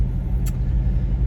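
Cabin of a 2020 Chevrolet Silverado pickup truck on the move, with a steady low engine and road rumble and one brief faint high click, no talk.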